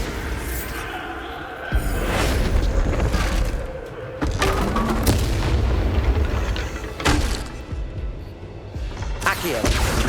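Bombarda explosion spell in Hogwarts Legacy, heavy booming blasts that go off several times in succession over a steady loud game soundscape.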